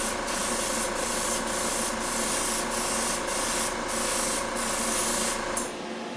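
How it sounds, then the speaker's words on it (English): Spray paint hisses steadily inside a model of the Dora railway gun, a continuous close hiss with faint periodic pulses that drops off at the very end. "before I start spraying, I'll hit that cardboard first."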